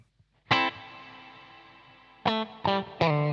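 Electric guitar driven through a DSM & Humboldt Dumblifier overdrive pedal set to its ethereal reverb: one struck chord swells and lingers in a long washy tail, followed by three quick chord stabs, loud and close.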